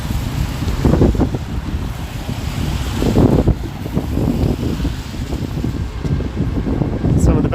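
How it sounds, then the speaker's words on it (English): Strong wind buffets the microphone in a steady low roar, with gusts swelling and fading throughout and a few faint distant sounds beneath. "it just got really windy"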